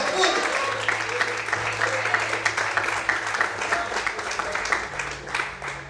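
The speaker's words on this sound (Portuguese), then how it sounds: "glorifica e aplauda o Senhor nessa manhã" A church congregation claps and applauds the Lord during a Portuguese-language morning service, steady dense clapping throughout with voices and a low sustained tone underneath.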